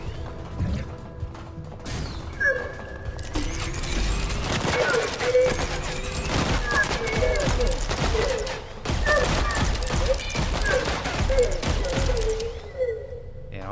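Weapon fire in the first-person shooter ADACA, rapid mechanical bursts and clanking impacts running nearly continuously at close range, with a voice talking over the action.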